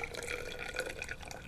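Water poured carefully into a plastic graduated cylinder, a steady close trickle and splash running the whole moment with no talk.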